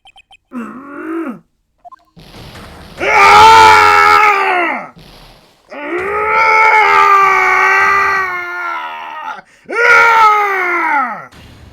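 Several drawn-out, wavering screams and anguished cries from the Phoenix Wright Ace Attorney video game, loud and near, broken by short silences.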